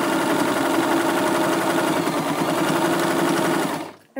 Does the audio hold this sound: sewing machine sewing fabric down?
yes